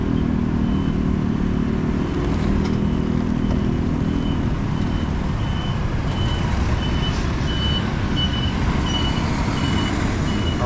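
Steady, loud street traffic made up mostly of motorcycles rumbles past nearby, with a faint repeating beep running through it.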